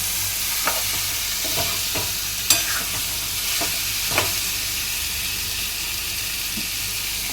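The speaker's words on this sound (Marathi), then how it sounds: "सोयाबीन घातल्यावर छानपैकी हे कांदा टॅमॅटोचा मसाला चांगला सोयाबीनमध्ये परतून" Onion-tomato masala being sautéed with soybean chunks in a pan, a steady close sizzle and hiss with scattered scraping clicks from stirring, and no talk.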